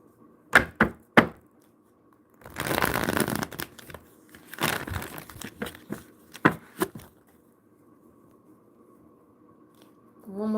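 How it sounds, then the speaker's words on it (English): Tarot cards are shuffled in several short bursts: a few quick riffles, then longer rustling stretches and scattered taps, quiet and close, with pauses of near silence. "One more shuffle and I'm done."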